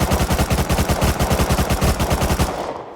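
Rapid sustained automatic fire from an MP5 submachine gun in Rust Console Edition during recoil testing, a dense rhythmic burst of loud close shots lasting about two and a half seconds before cutting off.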